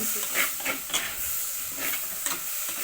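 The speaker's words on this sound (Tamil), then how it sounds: "கத்திரிக்காயும் கட் பண்ணி வச்சுருக்கேன் அதையும் சேர்த்து நல்லா வதக்கி விடுங்க நல்லா எண்ணெய் பிடிகிற அளவுக்கு கத்திரிக்காய் வதங்கட்டும்" Eggplant sautés in hot oil for a stingray fish curry, giving a steady close sizzle broken by a few soft stirring scrapes.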